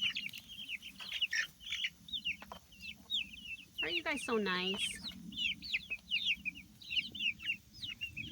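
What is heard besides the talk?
chickens clucking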